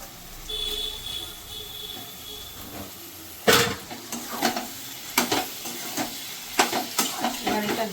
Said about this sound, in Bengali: মশলাটা ভালো করে কষে যাচ্ছে, এবার আমি দিয়ে দেবো লোটে মাছটা